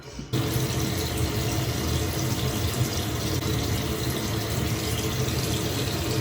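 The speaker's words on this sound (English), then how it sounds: "So I'm just gonna wash my face with that," Water pours steadily and close from a bathroom sink tap during a face wash with cleanser, a continuous full splashing rush with no talking.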